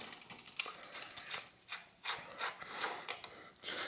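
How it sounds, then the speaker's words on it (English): A one-piece crank bottom bracket cup being unscrewed from a bicycle, giving irregular metallic ratcheting clicks and scraping grinds that rise and fall, close and fairly quiet. "I need to unscrew this, and then this just unscrews clockwise as well"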